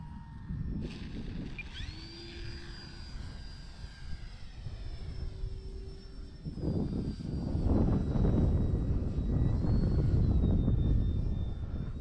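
A Turbo Timber Evolution electric RC plane makes a full-speed flying pass, its high motor and propeller whine rising and sweeping in pitch as it goes by, then fading while wind buffets the microphone.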